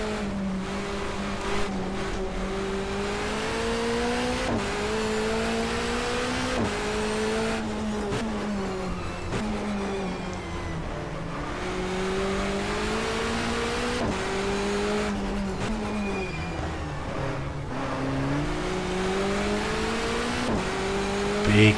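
A touring car engine in the racing game GTR2, 1994 Asia-Pacific Touring Car Championship, drones loud and steady throughout, its pitch rising and falling as the car accelerates and shifts gears, with brief tire noise.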